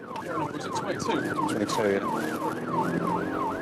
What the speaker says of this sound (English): Switch the old sirens off in case it spooks when we get close to it